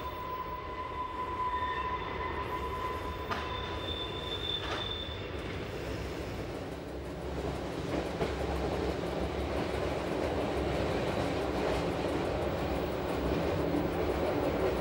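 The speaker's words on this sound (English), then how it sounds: "Our speed down this stretch of track must be kept between 20 and 25 kilometers per hour" An Appenzell Railways train in Switzerland runs slowly down a steep stretch of track, with a steady low rumble, faint wheel squeals at the start and a growing rolling noise.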